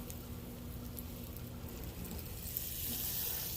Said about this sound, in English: I've got the pan nice and hot. Got some butter in there. I'm going to melt this butter.